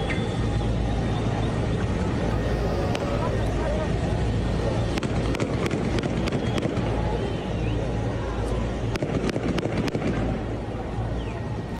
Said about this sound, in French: Là, ça a l'air d'être des coups de feu